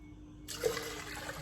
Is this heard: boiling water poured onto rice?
yes